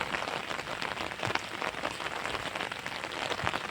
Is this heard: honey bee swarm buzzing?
no